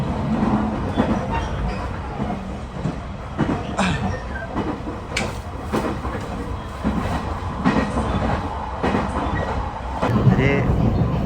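A train runs through forest in the Japanese mountains, its steady rumble and rail clatter continuous and fairly loud from onboard, with brief sharper knocks and a voice talking intermittently over it.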